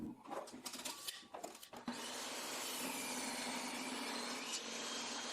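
A wooden 2x4 board being rubbed and scraped at first, then a power saw whines steadily as it cuts through it, loud and close.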